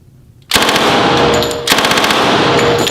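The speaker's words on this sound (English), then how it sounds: "I guess I'll put it on full auto since it's a machine gun." Machine gun on full auto, silence broken by a loud, close, rapid burst of shots, a brief dip, then a second sustained burst of evenly spaced rounds.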